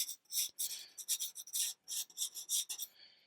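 Quick strokes of pastel scratching across paper come in a rhythmic series of short, close, raspy rubbing bursts separated by brief pauses.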